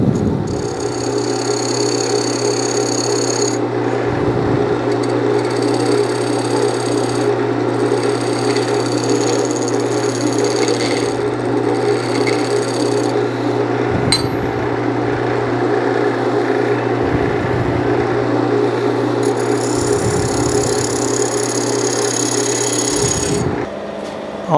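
A scraping tool cuts a small Osage orange bowl on a wood lathe, giving a steady, loud whirring drone with a constant motor hum and periodic scraping bursts of tool contact, no talking.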